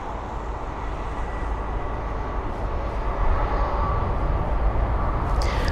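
An airliner arrives at London Heathrow with a steady, broad jet roar that swells slightly partway through and holds loud and fairly near, with no one speaking over it.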